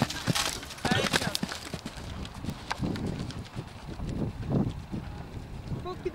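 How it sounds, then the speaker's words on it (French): Horses ridden at a gallop during a riding lesson, hoofbeats thudding in a rough rhythm amid wind noise on the microphone while an instructor talks over them. "Là, tu vas les mettre au galop."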